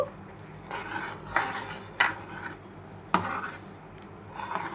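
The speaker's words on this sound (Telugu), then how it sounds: "బెల్లం వేసుకొని ఇలా ఒకసారి అయితే కలుపుకోవాలి" Spoon stirring jaggery into cooked rice in a metal pot for sweet jaggery rice pudding, a few sharp metallic clinks and scrapes spaced about a second apart over a low background, close and without talk.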